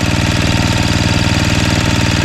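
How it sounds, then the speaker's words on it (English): A Simplicity snowblower's 5 HP Tecumseh engine runs steadily up close after a carburetor replacement, a loud, even mechanical chugging with a fast regular firing pulse and no talk. "Now it runs, blows, moves, starts, and stops, and idles well."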